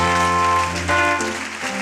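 A church congregation applauds during a prayer service, a dense patter of clapping spread over sustained keyboard-like tones, with no talk.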